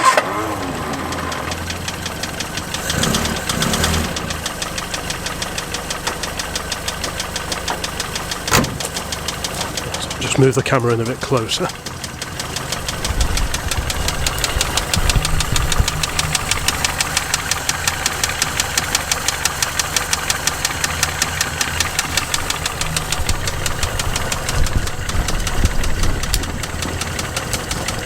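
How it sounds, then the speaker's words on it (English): A cold Standard 8 classic car engine runs with a chattery top end from its rocker assembly, a steady mechanical tick over a low idle that stalls briefly midway before restarting, with someone talking nearby. "it's quite chattery at the top"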